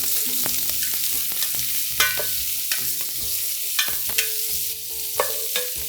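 Onions and garlic, then squash, frying in a pan with a steady loud sizzle, broken up by sharp clacks and scrapes of stirring, no voices.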